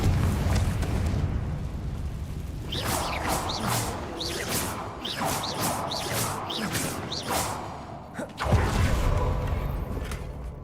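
A Confringo fire spell blast in Hogwarts Legacy, a roaring burst of fiery whooshes and rumbling impacts with repeated sharp swishing bursts, ending in a final heavy boom.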